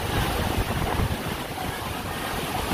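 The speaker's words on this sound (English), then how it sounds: "that is a lot of wind." Strong wind buffeting the microphone outdoors, a loud, steady roaring rush with gusty low rumble and no speech.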